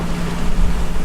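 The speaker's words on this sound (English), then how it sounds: "Probably only hear engine on there though." The engine of a small sailboat drones steadily and loudly out on open water, a constant low rumble with wash and wind noise and no voices.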